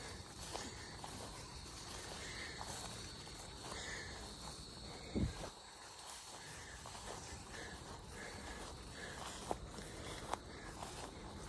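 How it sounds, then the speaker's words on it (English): Insects chirp steadily outdoors at night on a 20-acre off-grid Oklahoma homestead, a continuous high buzzing bed with a few soft rustles and footsteps nearby. "Love the sound of the bugs out here."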